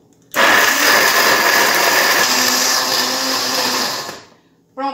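An electric mixer beats batter for a polvilho cake with rapadura, a loud, steady motor whir that starts abruptly, runs about four seconds, then winds down before briefly starting again.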